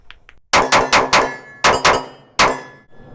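Rapid shots from a CR920 subcompact pistol ring out sharply at an outdoor range, a quick string of several loud cracks in uneven bursts with short pauses between, no talking.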